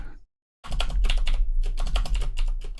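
Someone types rapidly on a computer keyboard while programming a game prototype, loud dense clattering keystrokes that start after a short silence and then continue steadily.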